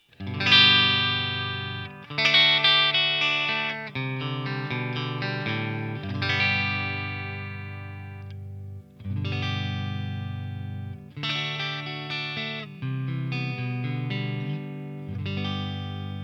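Electric guitar chords and arpeggios ring out through a Fender Deluxe Reverb tube amp, played in phrases with brief pauses, moderately loud and clean-to-slightly-driven with light reverb.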